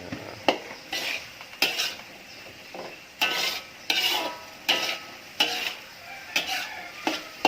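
Meat and sugar cooked in a pan for Iban kuih chang (tucung), with a spoon or spatula scraping and stirring in repeated bursts about once a second over a faint sizzle, close by with no talking.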